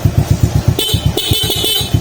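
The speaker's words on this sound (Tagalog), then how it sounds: "Try mo nga sir magbusina" The horn of a 2022 Suzuki Smash motorcycle with a battery overcharging fault honks in two short blasts over a chugging engine idle close by.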